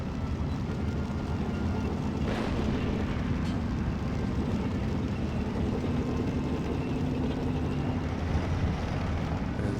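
Mortar and artillery fire in a World War II Italian campaign war video game forms a dense, continuous low battlefield rumble, with a couple of faint, sharper impacts early on.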